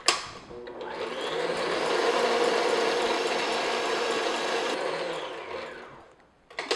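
An electric mixer whips egg-white meringue for French macarons, its steady high whir swelling in, holding for about five seconds, then winding down and cutting off, close and alone without speech.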